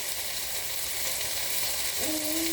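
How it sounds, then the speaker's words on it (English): Garlic browning in a hot pan gives a steady, close sizzle that carries evenly through the whole stretch with no talk over it. "Just a little brown. Just a little brown. Yeah, so you see the garlic."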